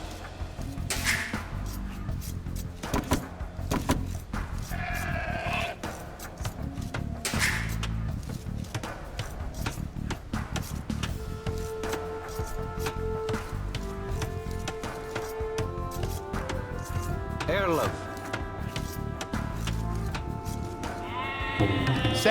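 Sheep bleat repeatedly in Age of Empires II, their calls scattered among other game sounds over steady in-game music.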